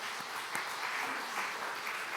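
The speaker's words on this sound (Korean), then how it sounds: "박수 한 번 더 쳐줍시다." A church congregation at a Sunday worship service in Mungyeong claps together in a steady, fairly distant wash of applause, with a few sharper individual claps standing out and no talk over it.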